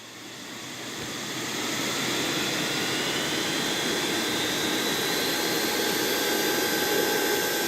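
An aircraft jet engine spools up in an airport ground-handling simulator game, a broad roaring whoosh rising over the first two seconds and then holding steady and loud with thin high whines, no talk.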